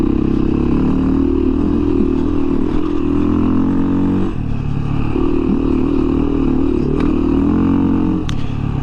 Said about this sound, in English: watch, I can chug the motor like this.